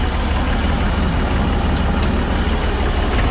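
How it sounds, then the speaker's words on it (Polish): A tractor engine runs with its hydraulic circuit switched on, a loud, steady, low idling drone close by with no variation, while a silage cutter attachment is coupled and pushed into a pile. "włączę sobie obieg hydrauliki"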